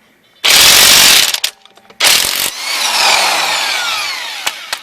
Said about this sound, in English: these are 19 millimeter sockets right here. I'm using a Chicago Electric Power